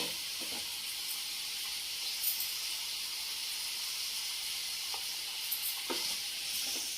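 Mushrooms sizzle steadily in oil in a pan for mushroom fried rice, with a constant hiss and a few faint clinks of stirring, no voices.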